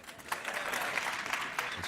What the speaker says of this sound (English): if you know Hindi, please clap